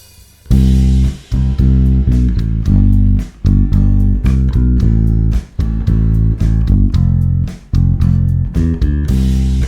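A bass line plays along with a backing track, a steady, loud low groove of sustained and repeated notes that stops briefly at a few points and continues through the passage with no voice over it.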